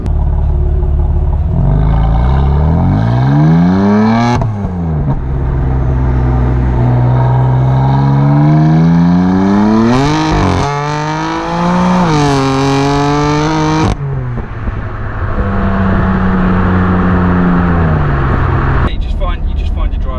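A 550bhp BMW M4 with a decat exhaust, loud and close, revving and accelerating through several rising and falling engine sweeps with rasping shifts.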